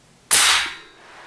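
Single shot from an Airforce Condor air rifle, a sharp loud crack with a quick attack and a short fading tail, close up and with no talking.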